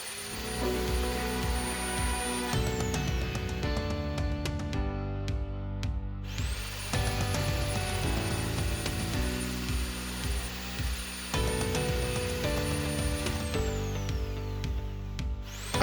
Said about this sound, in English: I felt like I was getting a bit too much resistance with the jigsaw